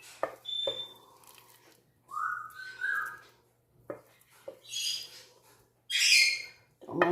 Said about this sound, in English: Don't mind the birds going off in the other room.